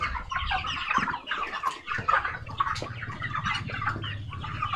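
A crowded poultry farm flock of chickens clucking together, a dense, continuous chorus of overlapping clucks and chatter, close and fairly loud throughout.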